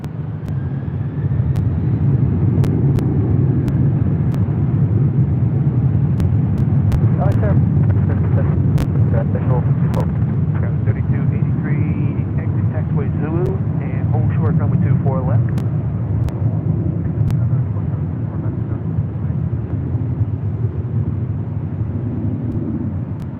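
Airliner on the runway at LAX airport, a steady loud low engine roar and rumble lasting throughout, with wind buffeting and radio talk layered over it.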